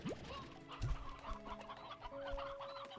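Chickens cluck repeatedly in a farming video game, several short fowl calls layered over soft, steady game background sounds.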